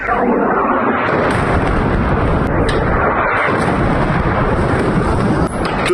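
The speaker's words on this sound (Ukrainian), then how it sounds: "Ось це вибухи, а?" Continuous loud, roaring rumble of distant explosions, dense and sustained with no clear breaks, a brief dip near the end.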